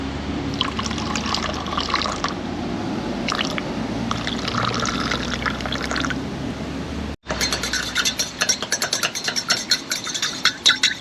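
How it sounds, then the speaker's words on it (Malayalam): Salt water being poured into a container, a steady trickling and splashing that runs continuously, breaks off briefly, then returns in a choppier stream of splashes. "ഞങ്ങൾക്ക് ഉപ്പ് വെള്ളം ഉണ്ടാക്കാം."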